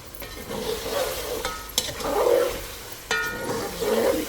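Cumin seeds hit hot oil in a pot for pulao, giving a loud crackling sizzle with sharp bursts and bubbling surges, close up and without talk.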